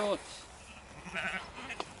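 A short lamb bleat rings out at the start on the Pennine Way, followed by quiet outdoor ambience with faint murmuring.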